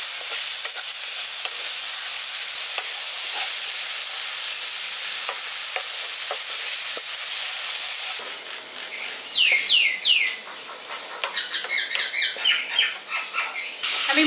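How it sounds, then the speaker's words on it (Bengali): A garlic spice paste fries in a pan with a steady, close sizzle and light stirring taps, village style. The sizzle then drops away and birds chirp and squawk outdoors in the background. "এবার এই মশলাটাকে একটু ভাজা ভাজা করে নিচ্ছি,"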